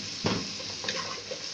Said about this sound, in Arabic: وابتدي اقلب في البصله لحد ما تحمر خالص